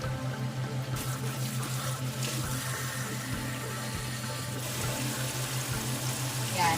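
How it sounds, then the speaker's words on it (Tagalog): Water pours steadily into a cooking pot for chicken adobo, a continuous trickling wash over a low hum, with faint sounds in the background. "Tapos dyan maglagay ako ng tubig. Kaunting tubig."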